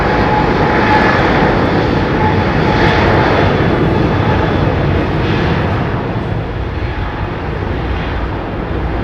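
An Airbus A350 airliner roars at London Heathrow Airport, a loud, continuous broadband engine rumble that holds steady throughout with no voices over it.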